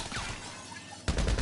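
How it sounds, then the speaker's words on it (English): Festival fireworks bursting outside, faint distant crackles and pops at first, then a louder cluster of sharp bangs near the end. "we are in the middle of the festival of wonderful fireworks every night"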